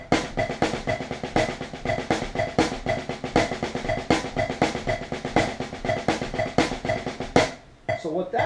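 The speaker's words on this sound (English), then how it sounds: "Let's put the paradiddle so that it is right in the middle." A drum kit plays a fill in paradiddle phrasing, with rapid, dense strokes and syncopated accents falling on the off-beats. The playing is loud and close, runs steadily for about seven seconds, then stops abruptly.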